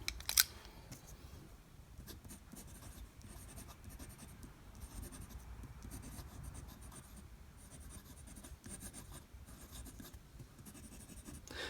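Fountain pen nib scratching across Leuchtturm notebook paper with a toothy feel, a steady close-up scritch of strokes and lifts running throughout, fairly quiet and alone.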